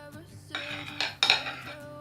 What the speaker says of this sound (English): I'm shaking the spoon.